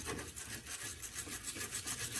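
A wire brush scrubs dirt off a drop link bolt on an Audi A6 C7. The rough, rasping strokes repeat in a quick steady rhythm, quiet and close, with no talk.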